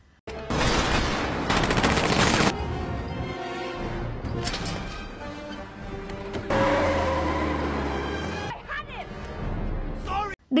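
Rapid bursts of gunfire crackle loudly during a film scene, followed by a car engine roaring and skidding, with shouting and crowd noise mixed in.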